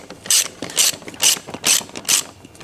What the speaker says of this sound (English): Put your Allen wrench on this side, wrench or socket wrench on the other,